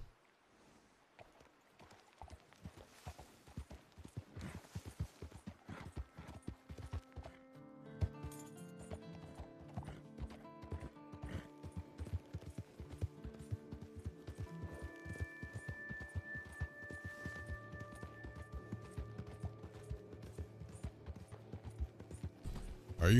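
Faint, steady clip-clop of horse hooves trotting along, with soft melodic background music gradually joining in.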